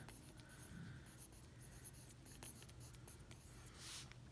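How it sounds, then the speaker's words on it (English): A pencil scratching across paper in quiet, irregular strokes, faint and close, with no talk. "And then I'm going to write thoughts,"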